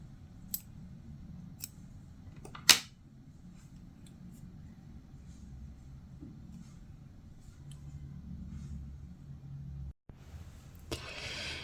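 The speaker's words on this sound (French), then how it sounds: "on coupe le fil" Scissors snip through crochet yarn in a few quick, sharp clicks near the start, then a low steady background hum fills the rest.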